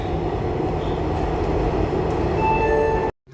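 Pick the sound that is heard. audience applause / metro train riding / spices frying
metro train riding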